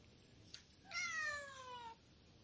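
A kitten gives one clear, drawn-out meow of about a second at close range in a quiet room, with no talking over it.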